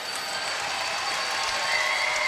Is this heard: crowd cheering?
yes